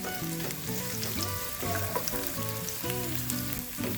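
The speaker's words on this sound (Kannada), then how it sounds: "ಸ್ವಲ್ಪ ಈರುಳ್ಳಿ ಟ್ರಾನ್ಸ್ಪರೆಂಟ್ ಆಗೋ ತನಕ ಫ್ರೈ ಮಾಡ್ಕೊಳ್ಳಿ." Chopped onions fry in a pan for a mushroom sandwich, a continuous close sizzle and crackle that runs under background music.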